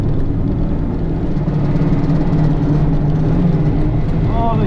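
A Toyota MR-2 Spyder drives on a race track, its engine a steady loud drone under the driver's talk.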